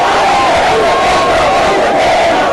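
A crowd greeting a presidential candidate at an airport in Congo, a dense continuous roar of many voices with shouting and cheering, loud and close throughout.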